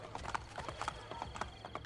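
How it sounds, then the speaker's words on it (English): Horse hooves clip-clopping in the Assassin's Creed: Brotherhood video game, a steady rhythmic trot of close, fairly loud hoofbeats over a busy game background, with no talking. "That was a horse."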